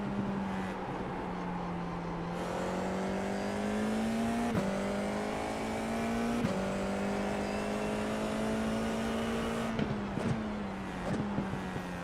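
A formula race car engine in the iRacing VR sim drones at a steady high pitch, with brief gear-shift blips and a few pitch rises, running continuously and alone without talk.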